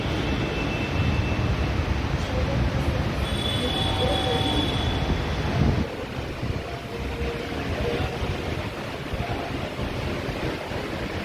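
Underground metro train running in a tunnel beneath the Hooghly River, a steady loud rumble of wheels and carriage noise with faint squeals, continuous throughout with a slight drop in level partway.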